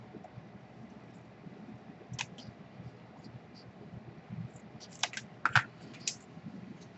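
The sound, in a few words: cutting paper for an envelope page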